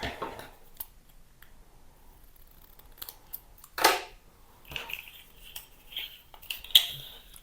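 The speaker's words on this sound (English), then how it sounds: "Just cut off the edge there because I don't want that part sticking up" Scissors trimming an edge of paper during a craft project, heard as a few soft, sparse snips and rustles at close range, with one sharper cut near the middle and light handling noises around it.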